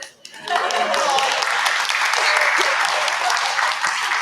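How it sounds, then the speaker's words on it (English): An audience at a St. Thomas and District Chamber of Commerce event claps for the chamber's CEO, the applause starting abruptly after a brief pause and holding steady and full. "No applause necessarily, but certainly appreciated"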